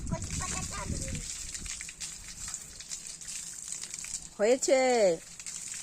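Water is poured over freshly washed taro leaves, giving a short splashing gush at the start, followed by quiet background hiss and then a voice.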